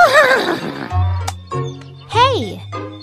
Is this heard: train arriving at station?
no